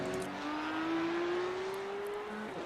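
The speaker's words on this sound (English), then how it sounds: "Love the sound of these cars." Porsche Cup race cars accelerating hard around the Laguna Seca circuit, a steady engine note climbing in pitch over about three seconds, loud and continuous with faint crowd and ambient noise beneath.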